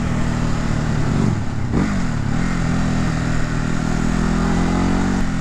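A Ducati Hypermotard 950 engine hums steadily as the motorcycle rides twisty hill roads, a loud continuous drone with brief pitch shifts from throttle changes and gear changes, heard close with wind noise and no voices.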